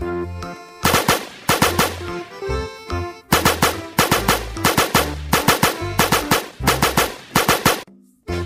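Bursts of rapid pistol fire from the video game Flying Hero Stickman crackle loudly in quick succession, sharp cracks repeating in short volleys with brief gaps, close.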